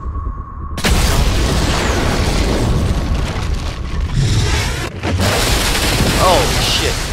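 Mines are shot and blow up in Call of Duty MW3: a sudden loud blast opens into a long roaring wall of explosions and rumble, broken briefly by a second burst near the end.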